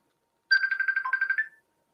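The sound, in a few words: Facebook call ringtone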